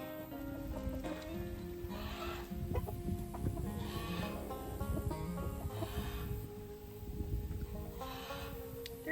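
A flock of Barred Rock chickens gives off scattered clucks and squawks close by, with rustling and handling noise filling the background throughout.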